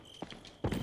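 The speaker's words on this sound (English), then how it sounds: "Those footstep sounds" Footsteps in the video game Resident Evil 4, a few sharp, hollow, clip-clop-like steps spaced apart, the last one heavier and louder, with no talk.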